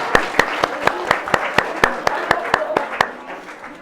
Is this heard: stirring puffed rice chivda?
no